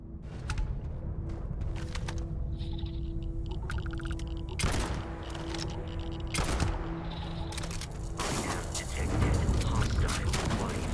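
Shotgun blasts and heavy gunfire in Starfield combat, several sharp loud booms spaced irregularly over a rumbling background of mechanical noise and effects.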